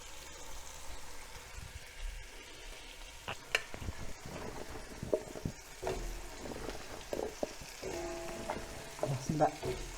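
Onions stirred while frying in a pan for a Kazakh braised fish dish, a steady close sizzle broken by scraping spoon strokes and clinks, with no talking.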